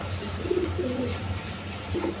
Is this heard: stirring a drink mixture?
no